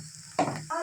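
Vegetables frying with onion in a pan give off a soft sizzle, followed by a sharp burst of crackling as something is added and another brief hiss near the end.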